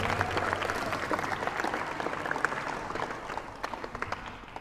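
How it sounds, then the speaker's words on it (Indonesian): An audience at a Ramadan show event gives lively applause after a band's performance, dense continuous clapping from a crowd that thins slightly toward the end. "Beri tepuk tangan yang meriah semuanya"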